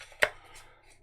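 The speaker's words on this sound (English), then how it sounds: "if I can get the page turned here." A single quick papery flip as a page of a tarot book is turned, one short brisk rustle close by, then quiet.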